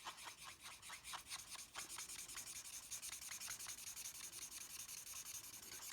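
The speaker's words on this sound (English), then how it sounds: "I'm going to come in with the brush in again and blend all of that in together." A blending brush rubs ink onto a card in quick back-and-forth strokes, a soft continuous scratchy rasp with a rapid, even rhythm, close and fairly quiet.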